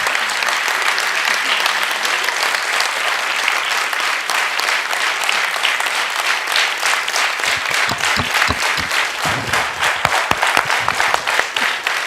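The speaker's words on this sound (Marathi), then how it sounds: "आपण जोरदार यांचं टाळ्यांनी आभार व्यक्त करायला पाहिजे" An audience at a yoga session breaks into loud, sustained applause lasting over ten seconds, a dense wash of clapping that grows heavier and more punchy toward the end.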